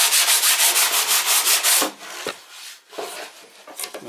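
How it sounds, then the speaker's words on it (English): Scrap wood gets a light hand sanding: rapid back-and-forth rasping strokes, close and rhythmic at first, then slower, sparser rubs with brief pauses. "whether I'm just going to give it a little bit of sand. Just to brighten it up a bit."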